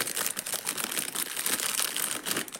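A packaged item from a Temu order being unwrapped by hand, continuous close crinkling and rustling of plastic or paper packaging with no talking.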